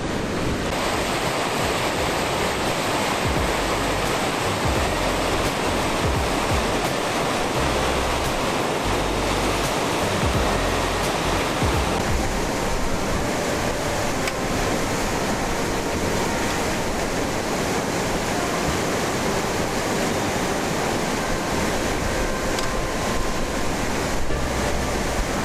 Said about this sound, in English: I was asking about the waterfall